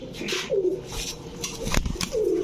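Orange Chila stone-eyed pigeons coo in two rolling calls, close and moderately loud, with some shuffling and handling noises between them.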